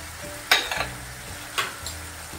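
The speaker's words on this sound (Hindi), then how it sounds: "देखिए हमारा प्याज भून रहा है, तेल सेपरेट होने वाला है" Onions frying in oil for chole, with spices stirred in: a soft continuous sizzle under two sharp scraping stirs of a spoon against the pan, close and clear, with no talking.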